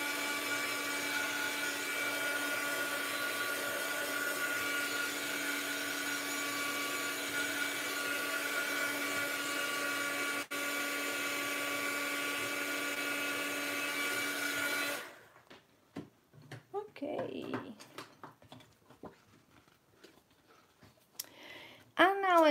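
A heat tool drying a freshly worked art journal page gives a steady, loud whirring blow for about fifteen seconds, then cuts off, leaving quiet handling noises and a short voice near the end.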